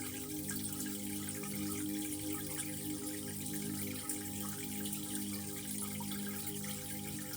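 A home fish tank bubbles steadily in the background, a soft, continuous watery burble with no talking.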